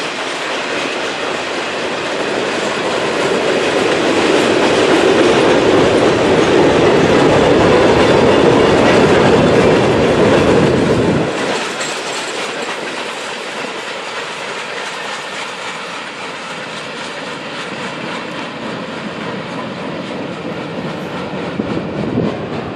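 A freight train passes near and loud, with rolling wheels clattering and rumbling over the rails and a heavy roar that drops sharply partway through to a lighter, steady rattle of cars going by.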